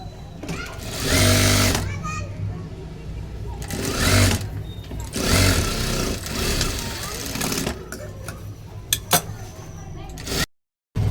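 A sewing machine stitching a blouse, several bursts of fast mechanical whirring separated by pauses, close and loud, with someone speaking between and over the runs.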